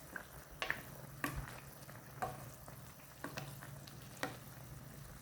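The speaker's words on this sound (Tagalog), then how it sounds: "Ayan, kumulo na guys." Chicken adobo cooked in Sprite simmers in a pot with a steady bubbling sizzle and occasional sharper pops and stirring scrapes, close and moderately quiet, with no voices.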